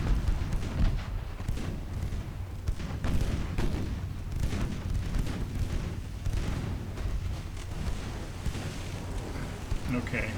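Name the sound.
naval gunfire, incoming fire in Ultimate Admiral Dreadnoughts video game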